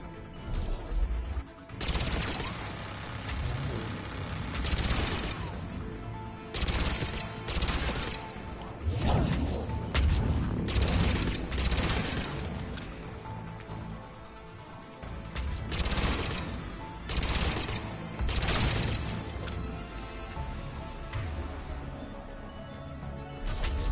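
Rapid bursts of gunfire and crashing impacts from the video game Mass Effect 3, loud and dense, with repeated volleys and brief gaps across the whole stretch.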